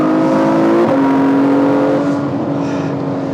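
Ferrari F12 Berlinetta V12 engine dropping a gear and then pulling hard, a loud, close, sustained roar with rising tone after the downshift blip, no talk.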